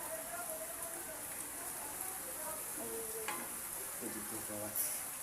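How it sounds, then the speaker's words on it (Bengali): Langcha, milk-based sweets made with full cream milk, sugar, ghee and a little flour, deep frying in hot oil, giving a steady close bubbling sizzle with a few brief louder crackles near the end. "আমরা ল্যাংচা ভাজছি"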